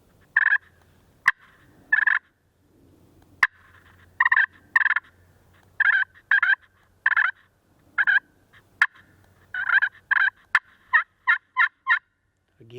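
A wild turkey yelps and clucks in a long run of short, sharp calls, some clustered in quick bursts and others spaced apart, ringing out clearly against near silence.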